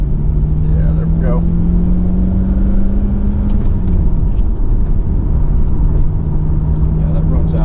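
Red 2002 Chevrolet Corvette with a 6-speed manual accelerating on a test drive, its engine droning up in pitch, easing off after a shift and pulling again, heard from inside the cabin with a voice speaking briefly.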